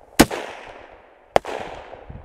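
Two sharp rifle shots from an SKS or Saiga MK03, about a second apart, each a loud crack followed by a decaying outdoor echo, with no speech.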